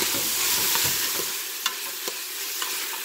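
Keto sausage lentil soup cooks on a stovetop, with a steady greasy sizzle and hiss broken by a few sharp stirring clicks and scrapes.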